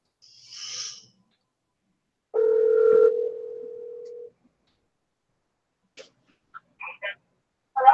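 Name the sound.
telephone dial tone while returning a phone call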